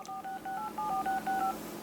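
A quick run of beeping keypad tones from the iPhone 4 phone dialer, each press a short clean tone in steady succession, clear and alone.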